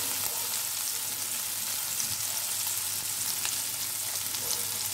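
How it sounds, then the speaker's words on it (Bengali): Onion, tomato and garlic fry in hot oil, a steady close sizzle that crackles evenly throughout with no talk over it. "এবার পেঁয়াজটা ভাজা হয়ে গেছে"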